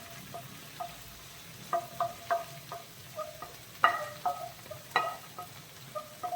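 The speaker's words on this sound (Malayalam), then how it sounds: "എല്ലാം കൂടി ചേർത്ത് നന്നായിട്ടൊന്ന് സോട്ട് ചെയ്തെടുക്കാം" Chopped cabbage, capsicum, tomato and green chilli sautéing in butter, a faint low sizzle broken by repeated sharp clinks and taps of a spatula stirring in the pan.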